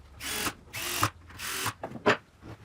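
A power drill drives screws into a wooden strip for a homemade wooden bar, in several whirring bursts with short pauses between, close and clear.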